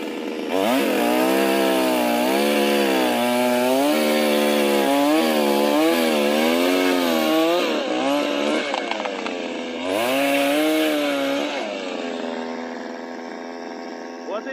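A chainsaw roars loudly and steadily, its engine pitch rising and falling as it bites into wood, easing off near the end.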